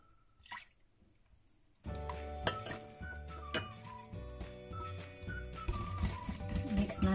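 Metal utensil clinks against a bowl while lemon juice is mixed into a no-bake ube fruity cheesecake filling: scattered sharp clinks and taps over a steady kitchen background, close and moderately loud.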